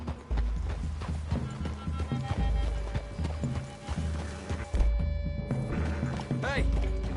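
Horses step through woodland in Red Dead, their hooves clip-clopping steadily up close with an occasional whinny, while gunslinger characters talk over the hoofbeats.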